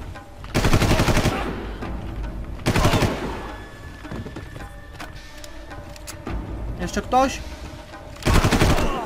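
Gunfire in the video game Far Cry: loud bursts of automatic fire in separate volleys with gaps between them, mixed with game effects and someone talking.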